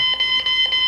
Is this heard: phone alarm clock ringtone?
yes